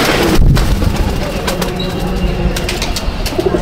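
Pigeons of an old Chapka Giribaz breed in a loft, with soft low cooing and a few wing flutters close by amid a busy background, no clear speech.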